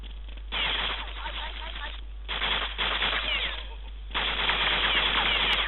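Video game gunfire arrives in several rapid automatic bursts separated by short pauses, loud and close, with the final burst running longest, all over a constant low hum.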